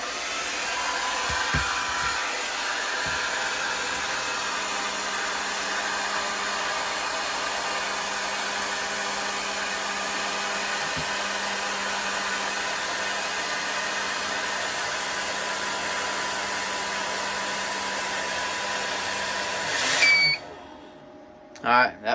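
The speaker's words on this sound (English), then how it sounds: "I don't know if I can do that with this hair dryer here" Handheld hair dryer powered through an off-grid solar inverter, blowing a loud steady whoosh with a constant motor whine for about twenty seconds before shutting off, followed by a couple of faint clicks.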